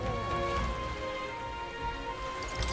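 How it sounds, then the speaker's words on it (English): Steady rain falling in the video game Metaphor: ReFantazio, a constant wash of drops over layered music or ambience, with no one talking. "This bloody rain."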